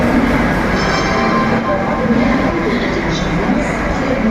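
A Vande Bharat train at a railway station gives a steady, loud rumble and hum of rail noise throughout, with voices murmuring faintly underneath.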